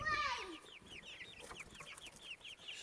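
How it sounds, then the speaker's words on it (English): Backyard hens cluck in a steady run of soft, repeated calls at middle distance, joined by a short rising call at the start from a flock of six hens and one rooster. "6 hens and 1 rooster, and all these are going to be pullets."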